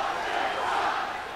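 A big stadium crowd chanting the Boston cheer at Yankee Stadium in the late 1970s, a dense roar of many voices filling the short stretch without a break.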